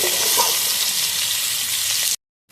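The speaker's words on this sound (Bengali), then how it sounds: "আলুটা পেঁয়াজটা ভালোভাবে লাল লাল করে ভেজে নেবো" Potato and onion frying in hot oil with green chilli, a loud close broadband sizzle that runs steadily and then cuts off abruptly near the end.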